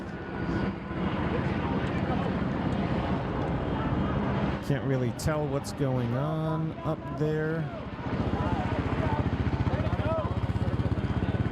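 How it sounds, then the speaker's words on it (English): A continuous helicopter rotor and engine drone hangs overhead throughout, steady and fairly loud, while a person talks and crowd noise rises and falls at a protest where tear gas was fired. "You can hear the helicopters up above."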